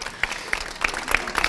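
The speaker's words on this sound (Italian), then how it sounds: "facciamo un applauso ragazzi, facciamo?" Audience applause at an evening cultural music festival event in Fragagnano, scattered claps rising and falling for about a second and a half, moderately loud with a diffuse crowd feel.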